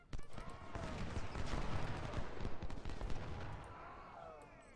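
Massed musket and rifle volleys crackle in a Civil War battle game, a dense fusillade of overlapping shots rolling steadily for several seconds before thinning out near the end.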